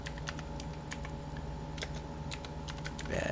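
Fast clicking keystrokes on a computer keyboard as a shell command is typed, a steady run of close, crisp taps over a low background hum.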